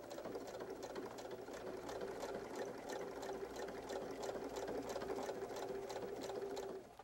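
A sewing machine stitches wallet lining fabric in place with a fast, even run of mechanical stitching close by, steady throughout and with no talk.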